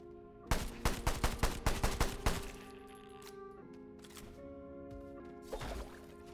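Gunfire in the video game Sulfer: a rapid burst of about eight close, sharp shots in quick succession, then a ringing game tone and one more faint shot, with no talking.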